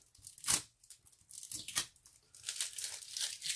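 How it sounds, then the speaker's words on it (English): Tape is ripped off a diamond painting package in several sharp, quiet tearing pulls with crinkling between them, close by and with no voices. "finally got the tape off."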